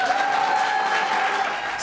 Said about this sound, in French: Salve d'applaudissements